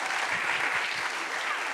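Audience at the Anchor Award Show during Reeperbahn Festival applauds a singer, a short, steady wash of dense clapping from a large crowd.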